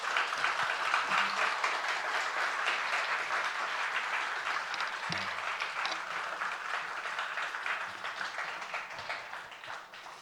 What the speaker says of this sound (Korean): 뜨겁게 박수로 환영해 주시기 바랍니다